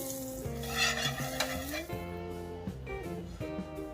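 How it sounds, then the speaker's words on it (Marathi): Bread patties sizzle softly on a tawa griddle, with a steady frying hiss, occasional stirring or turning, and a faint tonal hum running underneath. "तसंच आता परत दुसरे राहिलेले पॅटीस सुद्धा आपण असेच भाजून घेऊ"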